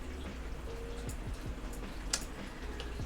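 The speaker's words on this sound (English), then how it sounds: "Oh, I can hear the rain going again." Rain falling outside, a soft steady patter of drops with a few sharper drips standing out, faint and distant under a low indoor hum.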